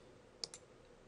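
A single mouse click on a continue link in a web browser, two quick soft clicks close together in a quiet room, faint and brief.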